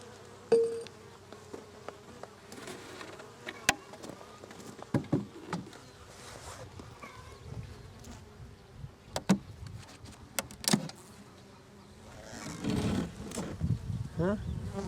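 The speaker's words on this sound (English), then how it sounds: "There's a few bees in here." Honey bees buzz softly and intermittently close by in a hive box, with occasional knocks and rustling handling sounds and a faint voice now and then.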